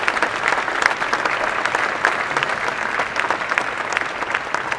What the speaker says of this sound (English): I would like to extend a round of applause to Chris Reen, your leader, for being this year's Pacesetter Chair.